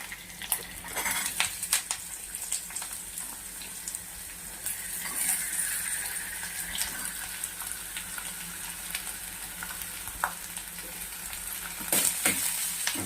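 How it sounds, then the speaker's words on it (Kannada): Cucumber pieces fry in a pan with curry leaves for a cucumber chutney, giving a steady close sizzle with occasional stirring clinks and scrapes throughout and no talking. "ಇದು ಸ್ವಲ್ಪ ಫ್ರೈ ಆಗಬೇಕು, ಚೆನ್ನಾಗಿ ಫ್ರೈ ಆಗುತ್ತೆ"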